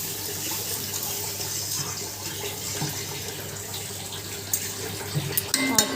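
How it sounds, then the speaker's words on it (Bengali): Water runs steadily from a tap or jug into a pan of fish curry on a home stove, a continuous splashing pour alone with a few small clinks near the end. "মা বুঝে পরিমাণ মতো জল দিয়ে দিল"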